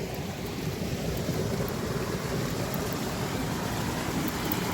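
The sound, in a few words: creek runoff rushing down from the hill after rain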